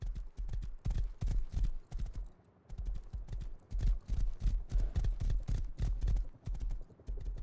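A horse's hooves clip-clop in a video game, a fast rhythmic run of close, loud thuds with a brief pause partway through before resuming.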